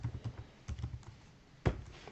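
Fingers tap out code on a computer keyboard, a short burst of close, quiet key clicks in uneven clusters, ending with one heavier keystroke.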